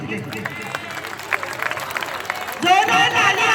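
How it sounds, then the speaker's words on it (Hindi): Audience at a school singing competition clapping for a singer, scattered applause under crowd noise and a voice on a loudspeaker, with a louder swell of clapping toward the end. "सिद्दीकी के लिए जोरदार तालियां।"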